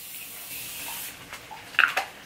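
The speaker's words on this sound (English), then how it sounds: "the last thing I'm going to be using is my Morphe Continuous Setting Spray just to seal everything" Morphe Continuous Setting Spray misted over a finished makeup look, a soft fine hiss building near the start, then a brighter, louder spritz of two or three quick close bursts at the end.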